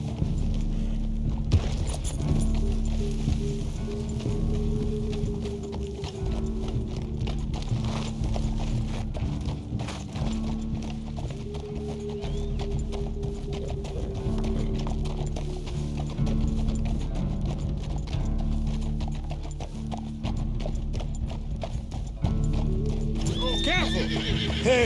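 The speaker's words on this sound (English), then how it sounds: "Careful! Hey, please control that horse." A horse clip-clops steadily along in Red Dead Redemption 2, its hooves beating a continuous rhythm up close, with neighs and whinnies mixed in and game mechanisms creaking underneath.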